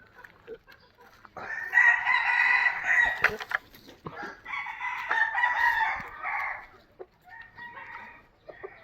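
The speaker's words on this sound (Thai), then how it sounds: "มีทั้งไก่" Roosters crow repeatedly at a Thai temple grounds where dogs and other animals roam, two long loud calls with shorter clucks between, fairly close with no talk over them.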